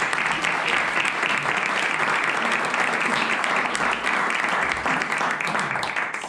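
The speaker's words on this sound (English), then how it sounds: "Big round of applause." Steady, dense applause from an audience at a business angels association event, loud and sustained throughout with no break.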